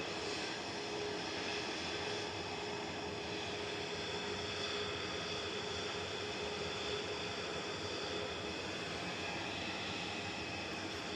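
A TUI Boeing 737-800 jet taking off, a faint, distant, steady broadband engine roar with a thin high whine and no voices.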